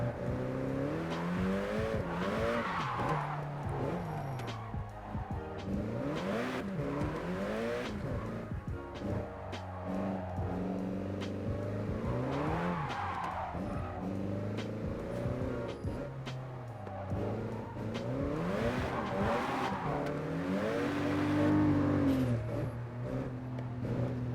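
A car drifting in the video game JDM Drift Master, engine revving and wavering up and down continuously with tires squealing and skidding through repeated slides, loud and sustained.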